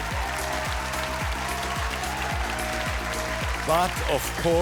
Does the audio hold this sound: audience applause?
yes